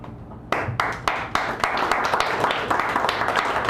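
Applause for a poet at Sacred Grounds Cafe in San Francisco, starting with a few sharp separate claps that quickly build into a steady patter of many hands from a small audience.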